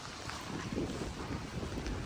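Strong storm wind gusts steadily outdoors in Oregon, a continuous roaring rush buffeting the microphone, loud and unbroken with no one speaking.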